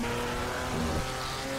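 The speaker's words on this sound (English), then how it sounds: "But I realized this is inline four." Inline-four engine of a Marek RP 219D LMP2 race car in Project Cars, a steady, loud, buzzing drone under hard throttle that holds at a high pitch with no talk over it.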